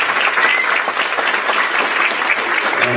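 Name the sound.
audience applause at band concert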